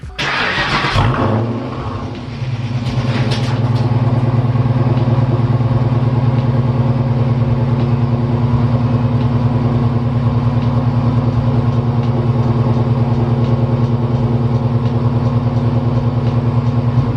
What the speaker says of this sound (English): We're about to go ahead and start up the 1998 Mach 1, make sure it doesn't have any leaks.